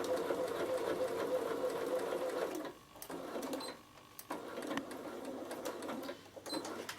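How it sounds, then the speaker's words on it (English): Bernina sewing machine quilting fabric, a steady rapid stitching hum with brief pauses and restarts, close and fairly quiet. "I am just going to quilt either side of my fabric"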